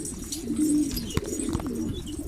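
Pigeons coo softly nearby, a few low throaty calls in a short burst against a quiet outdoor background.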